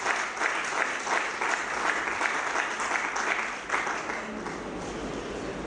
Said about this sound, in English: Please give yourselves a warm round of applause.